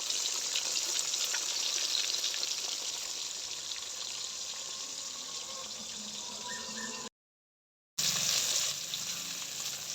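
Pieces of fish frying in hot oil, a continuous bright sizzle and crackle that holds steady, drops out briefly, then resumes just as loud.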